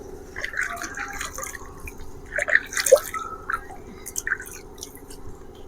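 Water drips and trickles while an arm is rinsed during wudu ablution, a soft run of small splashes and droplets close by, with a slightly louder splash near the middle and no talking.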